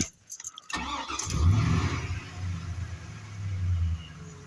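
A 2002 Chevy Silverado pickup engine cranks briefly and catches, then settles into a steady, smooth idle, heard close and moderately loud after a freshly replaced power steering pump.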